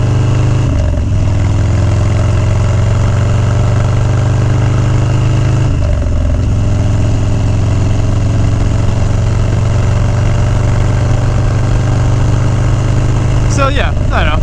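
Motorcycle engine running steadily while riding on roads in New York, a continuous low drone with a brief dip near the start and again midway, loud and close throughout.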